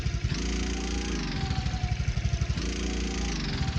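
Sodi SR4 rental kart engine in Assetto Corsa buzzing at high revs, then dropping in pitch sharply as the throttle cuts under braking, and the same rise and cut happens twice in a rhythmic, pulsing drone.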